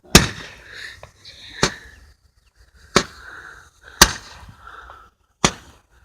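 Firework rockets go off outdoors, five sharp cracking bangs spaced a second or so apart, each followed by a whooshing, crackling tail, with people chatting between them.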